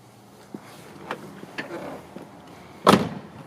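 A 2003 Ford Mustang GT Roush Stage 2's door slams shut once with a loud, solid thud near the end, after several softer handling knocks and clicks in a quiet garage.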